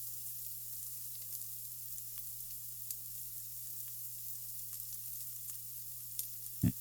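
Peppers and ground turkey sizzle in a pan for a turkey chili: a soft, steady frying hiss under a low hum, with a single clunk right at the end.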